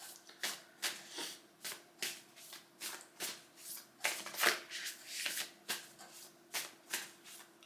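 A Work Your Light oracle deck by Rebecca Campbell being shuffled by hand: steady, rhythmic riffles of cards, about a dozen crisp bursts close up and fairly quiet, with no talking.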